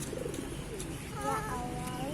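Pigeons cooing, with soft low coos rising over a busy background murmur and faint human voices.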